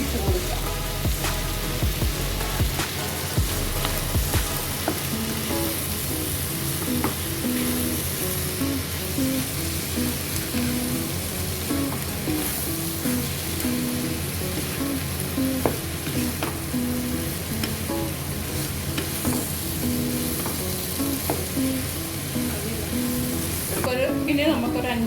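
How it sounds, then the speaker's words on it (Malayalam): Ripe dates being stirred into a dates pickle in a pan, giving a continuous close scraping and frying sizzle throughout. "നമുക്ക് അടുത്തത് പഴുത്ത ഈത്തപ്പഴത്തിട്ട് ഇത് നന്നായിട്ട് ഇളക്കി"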